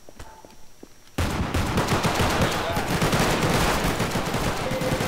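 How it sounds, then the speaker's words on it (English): Rapid video game gunfire erupts after a second of quiet and shoots through police car windows, a dense loud continuous barrage with clattering impacts. "you can shoot through the cop windows, which is the best part"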